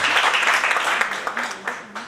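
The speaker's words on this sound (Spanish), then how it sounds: "Recibamos con fortísimo aplauso al doctor Enrique Mármol Palacios." A conference audience at a human rights and constitutional law congress applauds a speaker, a short burst of clapping with a voice talking over it.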